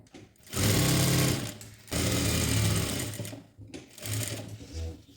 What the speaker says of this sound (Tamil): இப்போ கீழே பாட்டம் வரைக்கும் லென்த்து அதை வந்து நான் ஸ்டிச் பண்ணிக்கிறேன்